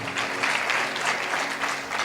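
An audience at a sermon claps together in a dense, sustained burst of applause lasting about two seconds, close and fairly even in loudness.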